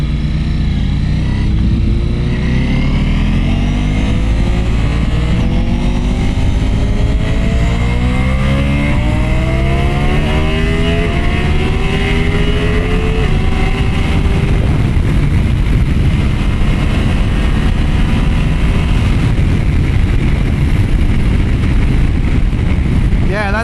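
A BMW M1000RR or Ducati Pikes Peak superbike accelerating hard, loud and close, with engine pitch sweeping up through repeated gear changes over sustained road and wind noise.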